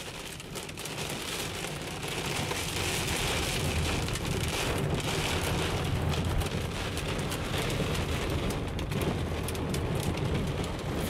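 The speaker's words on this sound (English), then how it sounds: "Ah, that hail really sucks." Constant heavy drumming of rain and hail on a car roof, loud and dense, with wind noise underneath and no break.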